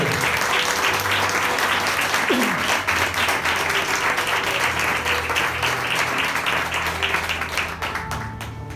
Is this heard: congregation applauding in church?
yes